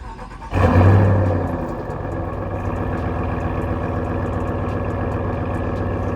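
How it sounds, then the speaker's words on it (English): A 2022 RAM 1500 Sport G/T pickup idles with a deep, throaty exhaust rumble through its passive cold-end exhaust, a short loud blip near the start, then a steady, even growl. "your passive cold end exhaust, which does make a huge difference, so take a listen for yourself."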